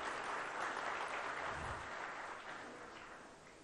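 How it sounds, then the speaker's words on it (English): An audience at a conference hall applauds Telangana's Chief Minister KCR in a sustained, even wash of clapping that fades gently toward the end. "Please give him a warm round of applause for that."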